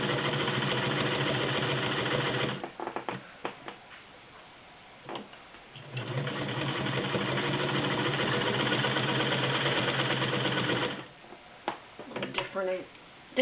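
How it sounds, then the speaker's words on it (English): A Singer Model 128 vibrating shuttle sewing machine stitches through four layers of denim with a steady, rapid mechanical ticking clatter in two long runs, separated by a quieter stretch of handling clicks. "And that's your Singer Model 128 vibrating shuttle machine."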